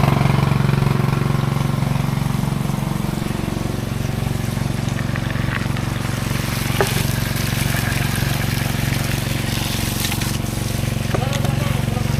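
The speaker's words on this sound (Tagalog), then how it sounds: "tuloy-tuloy na andar ng makina mga kabuhay kasi pag hindi namin pinaandar yung makina, hindi namin maaabol yung tubig sa ilalim" A mid-sized engine drives a water pump in a dig site, running as a steady loud drone throughout, while voices talk over it.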